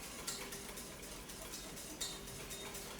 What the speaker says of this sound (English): So I'm gonna keep whisking it